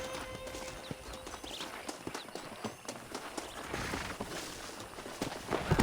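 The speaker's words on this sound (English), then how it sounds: "let's see if we can't wrangle some horses." Horse hooves clip-clop steadily at a walking pace in the Red Dead Redemption video game, a continuous patter of hoofbeats over outdoor ambience while horses are being wrangled, fairly close and without speech.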